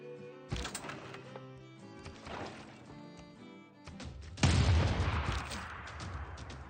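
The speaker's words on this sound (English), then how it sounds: "Oh man, them big cannons doing work." Big cannons fire in a strategy video game, with a few sharp booming blasts over game audio and a heavier, louder volley near the end.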